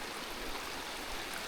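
A clear, cold river flows steadily nearby, a constant broadband rush and gurgle of water with no pauses, moderately quiet.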